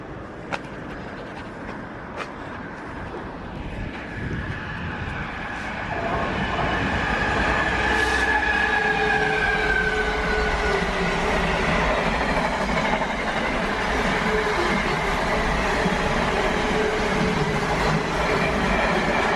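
Train rolling through a railway station, a rumble that swells after a few seconds into a steady loud roar with wheel noise and a brief squeal, continuing to the end, with no talking.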